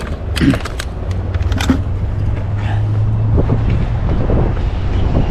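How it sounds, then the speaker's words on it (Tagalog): Steady, loud wind buffeting the microphone outdoors while fishing, with a continuous low rumble and occasional gusty bursts, like being out on the water. "Medyo mahangin po."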